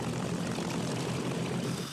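Vintage propeller planes, including a B-25 bomber and P-51 Mustangs, fly over Arlington National Cemetery, a steady droning engine roar that fills the sound without a break.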